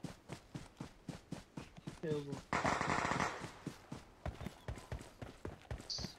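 Gunfire from the video game PUBG Mobile sounds as rapid, evenly spaced shots in a steady burst over several seconds, with a brief louder noisy blast midway, fairly quiet overall.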